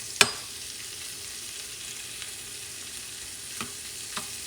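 Shrimp cooking in a pan for Cantonese scrambled eggs, a soft, even background sizzle with a sharp utensil clack near the start and a couple of faint taps later, no voices.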